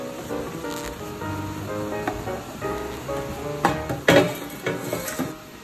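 Vegetable oil sizzles and crackles in the hot bubble slots of a bubble waffle iron for Hong Kong bubble waffles, a soft steady fry broken by a few louder clanks and scrapes of the metal pan and brush.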